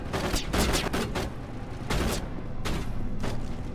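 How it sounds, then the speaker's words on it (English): Rapid bursts of gunfire ring out in the video game Mass Effect 1 Remastered, with repeated loud volleys and short pauses in a large room. "Now what are we shooting at?"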